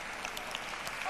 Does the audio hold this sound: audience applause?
yes